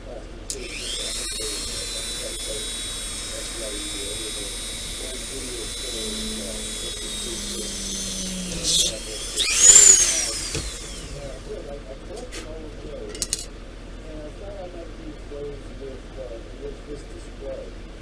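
A power drill whines steadily for several seconds while modifying a plastic model kit part, then stops, followed by scraping and handling noises nearby.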